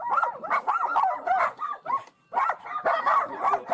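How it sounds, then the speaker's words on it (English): A crowd of dogs behind a door during a police search warrant, barking, yipping and whimpering nonstop in overlapping bursts, loud and close with only a brief lull. "There's already 8 dogs at the door."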